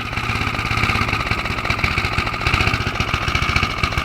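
A Qualcast Commodore 14-inch cylinder mower's petrol engine idles close by with the clutch released, a steady, loud, rapid chugging that keeps an even rhythm throughout.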